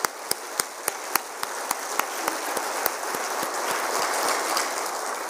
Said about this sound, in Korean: 다시 한번 감사와 환영의 박수 하도록 하겠습니다